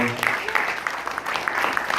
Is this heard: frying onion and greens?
no